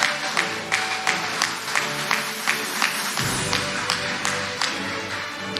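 An audience at a graduation ceremony applauds the staff, with scattered claps that rise into a brief louder burst midway, then continue as fainter clapping.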